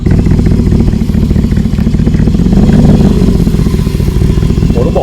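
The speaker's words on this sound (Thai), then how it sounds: "วันนี้เราขับไฮเปอร์คาร์ครั้งแรกในชีวิตนะครับ" A Mercedes SLR McLaren hypercar drives along with its engine droning loud and close, a dense, steady rumble that swells slightly partway through, with no talk over it.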